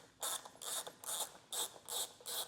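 A T15 Torx driver with a ratcheting mechanism backs out taillight screws on a 2025 Chevrolet, giving about five short close rhythmic bursts of rapid clicking separated by brief pauses, with no talk.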